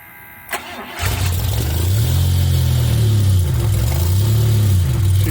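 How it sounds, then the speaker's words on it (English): A modified DeLorean engine cranks with a short starter whir, catches, and settles into a loud, steady idle with a slight rhythmic wobble. "So go ahead and start it up."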